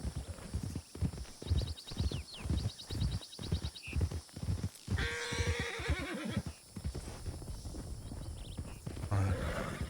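Several horses pass close by with a steady run of hoof clip-clops, then a loud neigh rings out over the hoofbeats as they move through.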